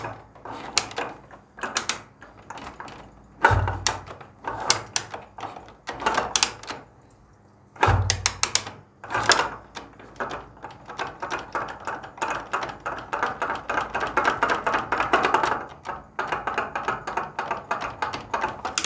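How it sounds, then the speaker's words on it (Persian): Knocking from a worn connecting rod in a motorcycle engine being kicked over with the engine off, heard as irregular sharp clattering taps and thuds, some louder bursts, close and with no talking. "بشنوید این صدا رو، صدای شاتونه، گوش کنید تو هندل."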